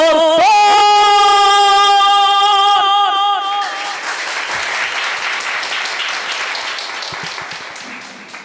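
A sustained, tonal final note of a film song performed at a Kannadasan tribute event gives way to a large audience's loud, full applause that continues steadily and slowly tapers off.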